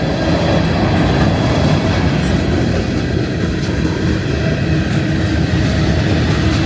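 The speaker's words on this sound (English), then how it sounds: "End of the train coming" A train rumbles past close by at Okefenokee Swamp Park, a steady loud roar of wheels on rails with faint clacking, continuing without a break throughout.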